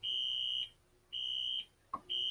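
Fire alarm warning device on an E-T 20101 system sounding during a test, a loud steady electronic tone repeating in on-off pulses of about half a second, with a brief click between beats.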